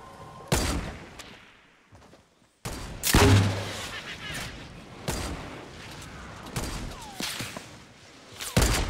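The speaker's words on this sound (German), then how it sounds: "Da kam noch ein Schuss." Gunfire in a Fortnite Battle Royale match: sharp, loud shots crack out one at a time at irregular intervals, with a rapid close pair near the start and a lingering in-game rumble and whooshes between them.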